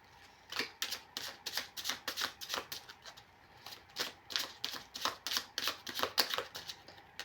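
Tarot cards being drawn and handled, a quick run of crisp flicks and slaps of card stock in uneven bursts, close and fairly quiet, with no talking.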